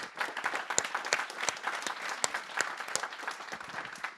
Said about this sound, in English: big round of applause for the 3 of them